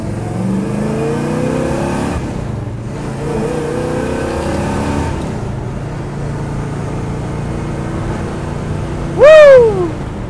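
A 1965 Pontiac GTO with a 400 four-barrel engine and headers rumbles up close, rising and falling through repeated revs, with a brief shrill whoop near the end.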